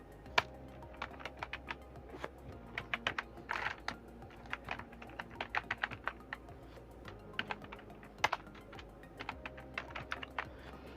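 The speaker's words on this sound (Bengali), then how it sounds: "সেই জিমেলের নেমটা আমরা এখানে টাইপ করে দিচ্ছি" Typing on a computer keyboard while entering a Gmail account name, with quick irregular bursts of close, crisp key clicks and short pauses, no talk.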